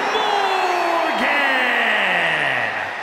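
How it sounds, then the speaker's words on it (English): Crowd at a WWE Bad Blood 2024 wrestling entrance, a loud, dense roar of cheering and whooping that holds steady throughout and eases slightly at the end. "Listen to that crowd!"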